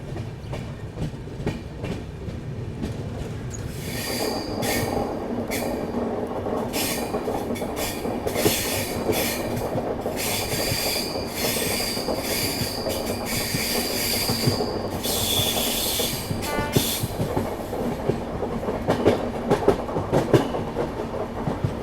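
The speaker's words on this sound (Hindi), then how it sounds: "छत्तीसगढ़ के खूबसूरत जंगलों से होकर फिलहाल अपनी रेलगाड़ी गुजर रही" A Garib Rath Express passenger train runs through forest in Chhattisgarh, its steady rolling rumble and clickety-clack heard from on board, with bursts of high wheel squeal and hiss partway through, no voices.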